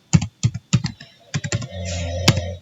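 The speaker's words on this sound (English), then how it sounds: "we input the password for this user account and we type for verification" A password typed on a computer keyboard, a few crisp separate keystrokes in an uneven rhythm, then a short burst of quicker taps over a faint background hum.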